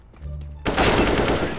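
Counter-Strike: Global Offensive gameplay: after a quieter stretch, a loud burst of rapid automatic gunfire erupts and keeps rattling densely to the end.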